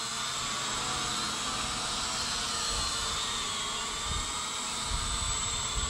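A cheap RC drone's motors whine steadily at takeoff, a constant high buzzing hum that stays close and even throughout with no talk.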